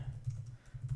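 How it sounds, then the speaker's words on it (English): Someone types quickly on a computer keyboard, entering event details into a spreadsheet calendar form; soft, close key clicks run steadily through one second over a low background hum. "Just type something"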